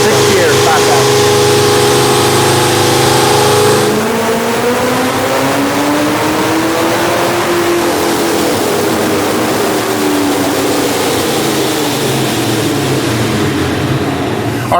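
A Mustang engine on a dyno pull to 5,000 RPM, loud and steady, with a sustained drone whose pitch climbs and then eases back across the run.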